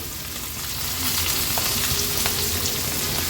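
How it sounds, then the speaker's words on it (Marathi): Coated mackerel (bangda) slid into hot oil on a flat pan for an Agri-Koli style crispy fry, giving a loud, steady, close sizzle that swells slightly after the first second, with no talk. "आता हा बांगडा आपण तेलामध्ये सोडणार आहोत"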